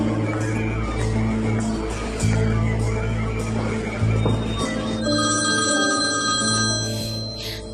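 A telephone rings steadily for several seconds, a repeating electronic tone over a low background hum, fairly close and clear.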